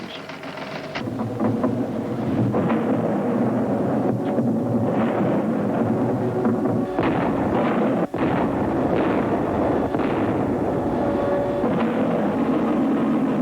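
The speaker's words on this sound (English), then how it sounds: "New Year's Eve in Berlin begins with an air raid. It seems to be only an average raid, mostly demolition bombs." Continuous heavy rumbling and booming of distant demolition bombs exploding in an air raid on Berlin, with dense crackling blasts layered over a constant roar throughout.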